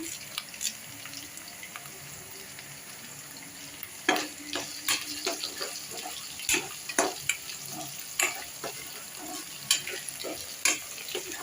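Curry leaves fry in hot oil for egg fried rice, giving a steady sizzle broken by sharp pops and spattering crackles that grow frequent partway through, with no voices.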